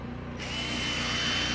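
A power drill fitted with a polishing pad, applying compound to a car, whirs up to a steady, continuous high-pitched drone, spinning at constant speed close by with no talking.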